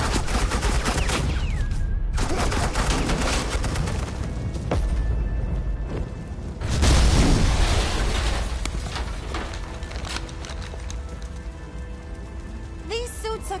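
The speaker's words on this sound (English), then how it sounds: "Suppressing fire." Sustained gunfire from Agent Quinn's suppressing fire in the Batman Telltale game, a dense crackling barrage with a heavy boom partway through, mixed with game music and effects.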